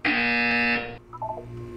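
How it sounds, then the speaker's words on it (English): A loud electronic buzzer from the video game Portal 2 holds a harsh, steady tone for under a second, then cuts off, leaving quieter faint tonal blips. "You will hear a buzzer."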